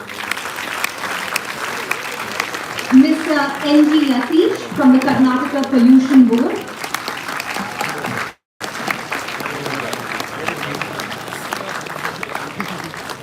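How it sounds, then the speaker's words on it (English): An audience keeps clapping for panelists at a live business school event, steady applause filling the room as an announcer's voice reads out a name partway through, with a brief dropout near the end. "Keep the applause going."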